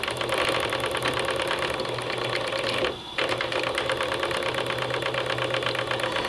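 Live steam engine with Stephenson valve gear driving a model steamboat, running fast with a steady rapid mechanical chatter and hiss, close and continuous apart from one brief dip midway.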